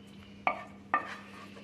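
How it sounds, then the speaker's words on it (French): Bacon lardons and onions spooned over Siam squash pieces in a baking dish: two sharp clinks of a utensil against the dish about half a second apart, over a low steady kitchen hum. "on verse les lardons dessus avec les oignons"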